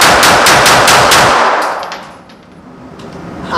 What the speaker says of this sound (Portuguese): Vou fazer uma sequência rápida de tiros para a gente ver a cadência